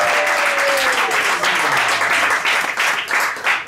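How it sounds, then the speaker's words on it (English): Comedy club audience applauding steadily and loudly throughout, a dense wash of clapping with a faint voice briefly audible underneath. "Can you clap it up for the single mom?"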